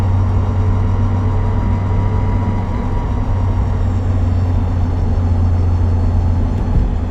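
A Lotus race car cruises along a road in traffic, its engine a steady, loud low drone heard from inside the cabin with a constant tone and no talk.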